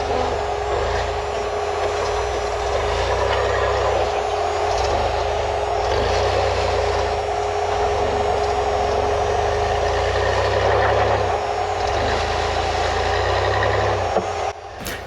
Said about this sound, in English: Driving this new buggy with rear steer puts a whole new spin on the other trails we've driven before